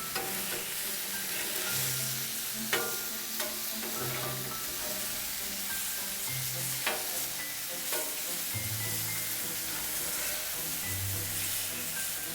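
Mushrooms fry in a pan alongside back bacon for a full English breakfast, a steady sizzle running throughout with occasional stirring scrapes and clinks close by.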